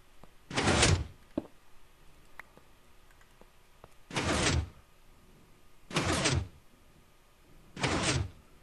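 Minecraft redstone-powered doors opening and closing, heard as four separate loud wooden bursts spaced a couple of seconds apart over a quiet background, with no talking.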